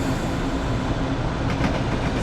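A train in Train Simulator Classic running on rails on the approach to South Tottenham, giving a loud, steady rolling rumble and hiss with a few faint clicks late on and no talking.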